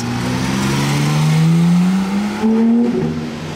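Ferrari cars drive through Monaco during Grand Prix week; a loud, close engine drone rises steadily in pitch as a car accelerates past, then drops sharply as it shifts or pulls away.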